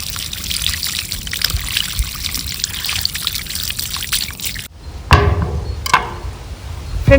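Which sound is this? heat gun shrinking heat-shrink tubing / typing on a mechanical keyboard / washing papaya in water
washing papaya in water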